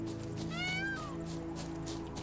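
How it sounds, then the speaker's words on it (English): A peacock in The Witcher 3 lets out a single rising and falling wail that lasts about half a second, heard against a steady hum of game ambience. "A peacock, I guess."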